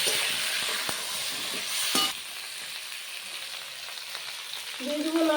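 Chopped onions, dried red chillies and bay leaf frying in oil in a pan for a fish curry, a steady close crackling sizzle with a brief louder spatter and a faint tone near the end.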